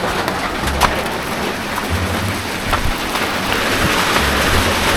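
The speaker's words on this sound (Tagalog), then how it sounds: "Teka, ulan. Ah! Naulan." Rain starting to fall outdoors in the Philippines, a steady broadband patter throughout, with pigeons or doves cooing low in the background.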